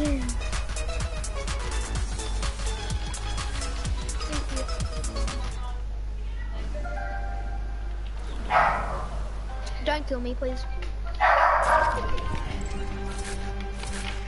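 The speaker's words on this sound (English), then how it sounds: "Who's got a dog? That's going crazy." A dog barks excitedly in scattered bursts under ongoing conversation, with people talking loudly over a steady low background hum.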